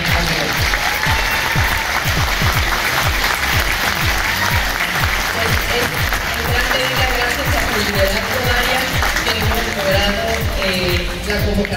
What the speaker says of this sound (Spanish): Un aplauso para Daria.